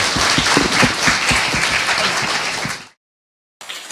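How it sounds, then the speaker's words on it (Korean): An audience at a Korean talk show recording claps and applauds loudly and continuously for nearly three seconds, then the sound cuts off abruptly to silence before faint sound returns. "강 기자에게 박수 부탁드립니다"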